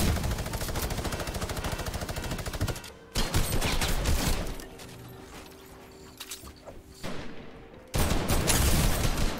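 Gunfire from a new weapon in Fortnite, rapid automatic bursts firing in fast rhythmic strings, loud and close, separated by short pauses and quieter mechanical sounds before a final burst.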